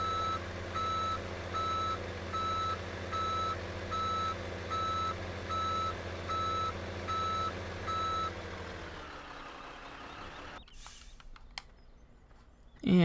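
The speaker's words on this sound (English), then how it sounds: "Then we'll just back the truck in real quick." A truck in the video game Farming Simulator 17 backs up with a steady run of evenly spaced electronic reversing beeps over a low idling engine. The beeps then stop and a few clicks and bumps follow.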